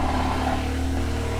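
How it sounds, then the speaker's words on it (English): An Audi engine idles just after an oil change, a steady low rumble with even harmonic hum, close and constant throughout with no talking. "We're gonna turn on the car, let it run for a little bit to fill up that oil filter"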